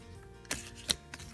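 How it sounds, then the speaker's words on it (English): Fortune-telling cards riffled in a one-handed shuffle give three quick, faint snapping flicks spaced over a second or so, close and quiet. "I'm going to do my famous one-handed shuffle."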